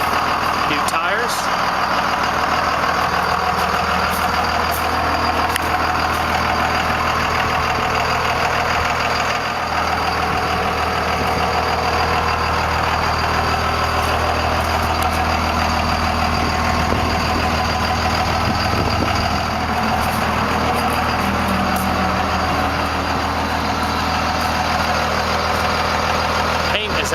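A 1998 Dodge Ram 2500 with a Cummins turbo diesel idles steadily and loudly up close, with a low exhaust rumble and a constant high turbo whine running through the whole stretch.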